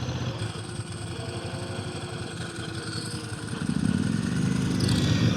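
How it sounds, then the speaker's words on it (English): A Yamaha MT motorcycle approaches on the road, its engine note swelling louder over the last couple of seconds above a steady, close engine drone that runs throughout. "There comes somebody on a bike."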